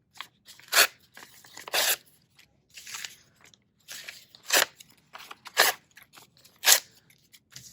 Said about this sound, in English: I'm just gonna rip out a couple pages and rip them into small strips.